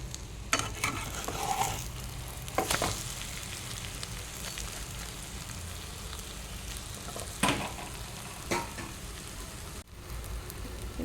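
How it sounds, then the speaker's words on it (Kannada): An egg omelette fries in a pan with a steady close sizzle and crackle, broken by a few sharp scraping or turning clatters, with no talking. "ಇವಾಗ ಇದು ಫ್ರೈ ಆಯಿತು, ಇದನ್ನು ಉಲ್ಟಾ ಹಾಕ್ಕೊಳ್ಳುವ."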